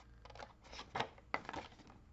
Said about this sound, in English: So go ahead and cut that right side up to the next score line and flip it.